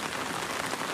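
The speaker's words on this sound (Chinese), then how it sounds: "以为刚下去的时候不会下雨，我都没穿雨衣" Steady rain falls outdoors beside a wild pond during eel-trap fishing, a dense, even hiss of drops close by with no voices.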